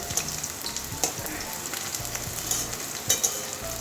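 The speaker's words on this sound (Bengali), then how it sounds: "উচ্ছেগুলো আমার ভাজা হয়ে গেছে এরকম অর্ধেক ভাজা হয়ে গেছে" Bitter gourd frying in a pan, a close, steady sizzle with soft crackling pops and a few brief clicks of stirring across a few seconds.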